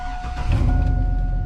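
Blue pickup truck engine catching and settling into a steady idle, a close, loud low rumble lasting about a second and a half with no talk.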